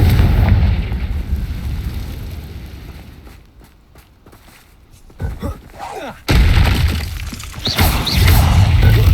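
A Confringo blasting spell explodes in Hogwarts Legacy, a loud booming burst followed by rumbling debris, a quieter lull with scattered crackles, then another powerful blast roaring up near the end.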